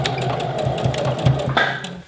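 A home sewing machine stitches back and forth across a flat fabric bow, a steady close mechanical whir running for about two seconds with a few brief louder pulses.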